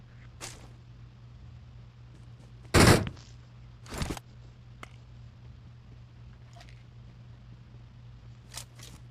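Two loud, sharp gunshot bursts from PUBG Mobile stand out over a low steady hum, with a few fainter clicks and pops scattered around them.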